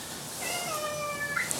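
A domestic cat meows in a long drawn-out, wavering call, fairly close and clear against a quiet indoor background, with no talking over it.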